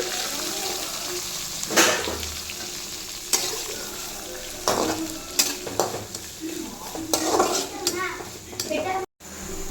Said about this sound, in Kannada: ಕಟ್ ಮಾಡ್ಕೊಂಡಿರೋ ಈರುಳ್ಳಿ ಹಾಕೋತಿದ್ದೀನಿ